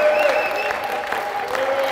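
Church congregation clapping together in praise, a dense steady wash of applause throughout with a sustained tone, likely an organ or singing, running beneath it.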